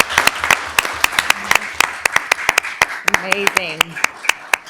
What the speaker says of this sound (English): please give a round of applause for Vivian